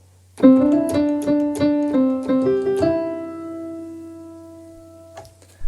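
A keyboard plays a short bright melodic riff of quick notes, then holds the final chord as it rings out and fades.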